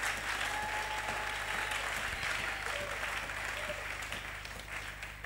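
A church congregation applauds to acclaim the Lord during a Sunday service, steady sustained clapping filling the room throughout, with a few faint voices and tones mixed underneath, tapering slightly toward the end.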